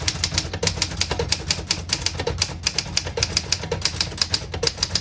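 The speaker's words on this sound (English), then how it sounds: "I'll type a sentence on the next line." A sentence typed on a manual typewriter: a fast, continuous run of crisp key strikes with a steady rhythm, close and alone, with no voices.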